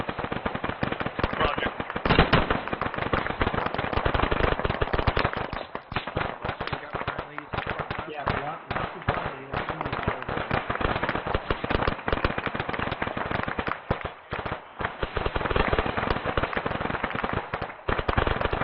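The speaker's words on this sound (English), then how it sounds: "Johansson, slow down your rate of fire" Rapid gunfire during platoon training, dense crackling bursts of shots that fire almost continuously, loud and close, with shouted voices mixed in.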